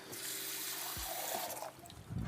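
Water runs from a kitchen tap in a steady, hissing stream, close by and fairly quiet, with a few faint clunks and a brief rustle near the end.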